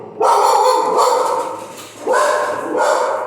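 A pet female dog barks loudly and close by, two long rough barks separated by a short pause, with no talk over them.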